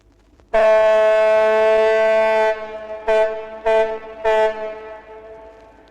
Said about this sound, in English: That's the sound of a ship on the River Avon as it passes under the Clifton Suspension Bridge.